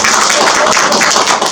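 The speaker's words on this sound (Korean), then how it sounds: "박수. 박수!" Lecture audience applauding at a special talk by the mayor of Yeoju, a steady dense patter of clapping filling the short moment at even loudness, with no voices on top.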